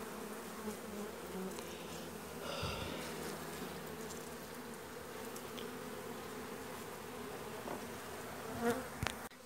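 A swarm of honey bees hums with a steady, low buzz, faint and continuous, with no voices, as the bees are shaken off a frame during hive work.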